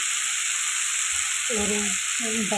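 Dried fish thokku with chili powder sizzling over a low flame, a steady loud frying hiss throughout, with muffled faint voices or movement entering in the second half.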